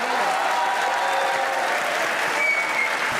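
Studio audience on a Pakistani comedy talk show breaking into steady, dense applause that stays loud and even throughout the short stretch, with no voices standing out.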